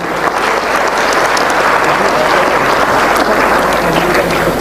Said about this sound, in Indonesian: Berikan aplaus untuk semuanya dulu